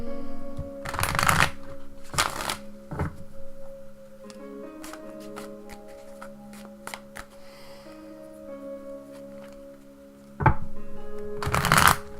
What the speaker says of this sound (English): let me just shuffle these cards up